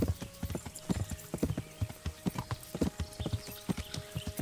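Horse hooves clip-clop steadily on the ground in the medieval game Kingdom Come: Deliverance, a close, even walking rhythm of repeated thuds with a faint whinny-like tone in the background.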